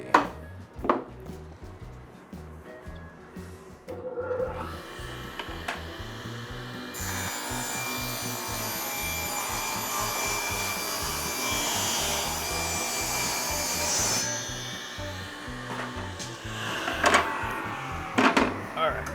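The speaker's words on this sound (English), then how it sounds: "I'm gonna go ahead and rip this to the 3 inches on here" A table saw rips a board of 3/4 inch scrap plywood for a DIY router table fence, a steady loud whine and cutting roar building in the middle of the clip, with thumps and handling noise before and after.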